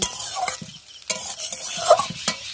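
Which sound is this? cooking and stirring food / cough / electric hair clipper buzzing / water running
cooking and stirring food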